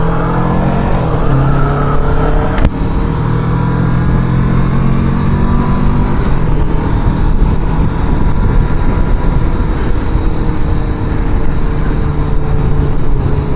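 A 2023 Kawasaki Vulcan S motorcycle engine drones steadily and loudly during a ride, with a continuous rumble and rushing wind noise that never lets up.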